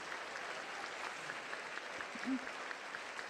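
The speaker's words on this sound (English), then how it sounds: "please give a round of applause for our distinguished guests and junior hostesses" Applause for guests at the First Lady's annual luncheon: a steady wash of crowd clapping heard from a distance, fairly faint and even throughout.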